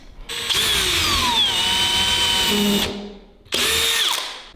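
A power drill whines loudly for a couple of seconds, its pitch dropping as it bites into a small pilot hole for a nail, stops, then spins up again briefly.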